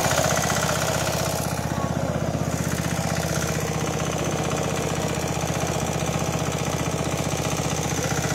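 A small tractor's engine at an agriculture exhibition and farmers' fair, loud and steady with a rough, rapid knocking chug throughout, sounding as if it struggles to run smoothly after starting.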